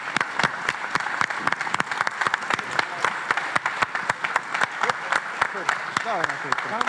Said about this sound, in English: Don't stop applauding. Don't stop applauding. More noise. More applause.